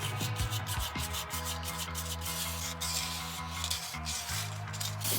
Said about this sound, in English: I decided to smooth the surface with some 400 sandpaper